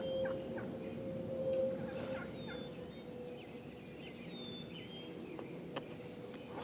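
Wild turkeys in Nebraska call from a distance, with faint, scattered gobbling notes over a quiet outdoor background.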